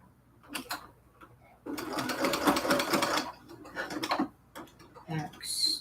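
A sewing machine back-stitching cathedral window quilt curtains runs in short bursts, one long whir in the middle and a shorter one after it. Brief clicks and a voice come between the runs.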